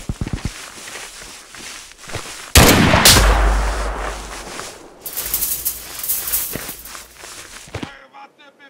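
Gunfire from the game Mud and Blood, with scattered shots and then a loud burst of heavy firing and explosions in the middle. Rattling bursts continue after it, and muffled voices are mixed in.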